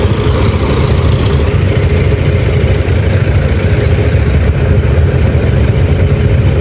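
Motorcycles idle and run nearby at Nuvali Park in Santa Rosa, Laguna, a loud, continuous low engine rumble filling the scene with no talk.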